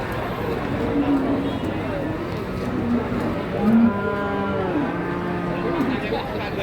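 A cow at a cattle market lows several times. The drawn-out moos rise over a constant crowd murmur and nearby talk, one louder call coming near the middle.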